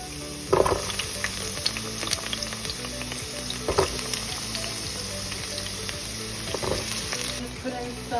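Onions and peppers sizzle steadily in a hot pan, a close, continuous crackling fry with a few louder stirring scrapes and clunks scattered through it.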